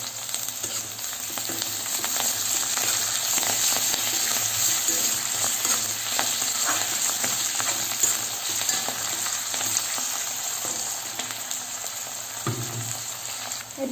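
Dry fish and onion stalks fry in hot oil in a pan for an Assamese dry fish dish, giving a continuous, even sizzle up close, with small crackles and a soft knock near the end.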